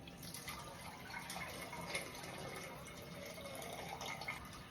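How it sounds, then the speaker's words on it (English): Coconut milk pours into a pot of red pea soup in a steady, soft liquid stream with faint splashing, close by and continuous, no talking. "And I'm gonna add my coconut milk."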